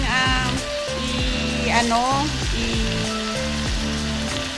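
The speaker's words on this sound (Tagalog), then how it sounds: "i-stir fry yung ating veggie" Vegetables stir-fried with soy sauce and pepper for pancit bihon guisado, a steady close sizzle under background music with melodic tones throughout, and a voice speaking over it.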